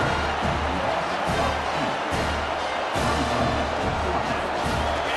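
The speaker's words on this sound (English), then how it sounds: "Decibels rising as the crowd gets behind this defense on third down." A packed stadium crowd at an Ole Miss versus Penn State football game roars steadily behind the defense on third down, a thick, continuous wash of cheering with no breaks.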